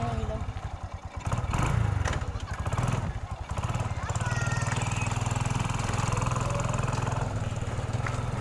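Motorcycle engine running close by with a steady, buzzing drone that rises and falls between revs, while people talk over it.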